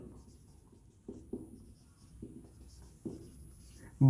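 Chalk or marker writing on a board during a B.Sc. physics lecture on magnetic susceptibility, heard as soft scratchy strokes in short bursts with gaps between, faint and close, no talking over it.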